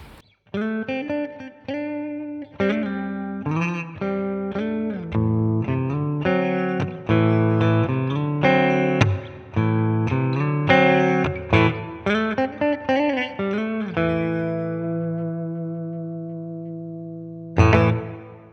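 Electric guitar played through a Bugera V22 tube amp with the midrange boosted, a continuous riff of chords and single notes ringing with effects-laden sustain, loud and close with no talking, ending on a long decaying chord and one final strum.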